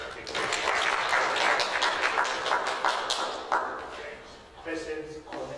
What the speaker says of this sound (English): let's just give you another round of applause